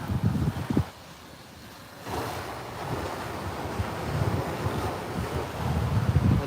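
Ocean waves on a Cancun beach wash in and recede with a continuous broadband roar, mixed with strong wind buffeting the microphone, surging louder at the start and end, with no talking.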